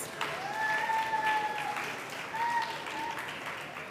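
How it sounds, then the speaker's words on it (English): An audience applauds a school choral speaking group at an elocution contest, steady diffuse clapping from a crowd heard at moderate distance under a presenter speaking. "Let's give them another round of applause."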